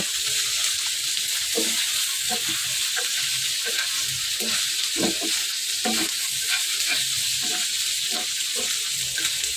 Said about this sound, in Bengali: ভালো করে নেড়ে টেড়ে ভেজে নেব